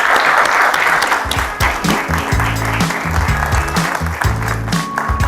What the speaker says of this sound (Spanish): Ahora sí los invito a que lo recibamos con un fuerte aplauso.